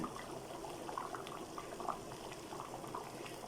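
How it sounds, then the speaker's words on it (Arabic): Soup bubbling at a steady boil in a pot over rice, a continuous low wet burble with small pops, close and fairly quiet, with no voices. "نحط بقيه الشوربه كده وبتغلي"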